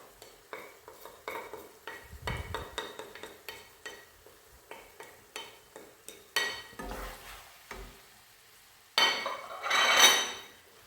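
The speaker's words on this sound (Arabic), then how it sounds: "نخلطهم معاهم ونخليهم هما ثاني يتقلاو مليح" Garlic, tomato paste and spices are stirred and fried in a pan, with scattered scraping clinks of a utensil and bursts of close sizzling toward the end.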